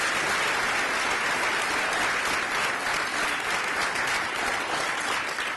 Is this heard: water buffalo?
no